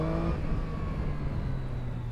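A Triumph Street Triple 660S motorcycle engine accelerating, a steady, loud drone with rising pitch that holds throughout, heard alone without talk.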